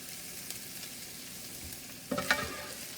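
Sausage fries in a skillet with a soft, steady sizzle, then a slotted spoon scrapes and clinks against the pan as it scoops the meat out, sharper near the end, with no voices.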